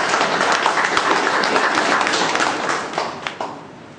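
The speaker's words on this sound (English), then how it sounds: "Give me a round of applause." Steady applause from a Toastmasters meeting audience fills the room for about three seconds, then tapers off into a few last scattered claps.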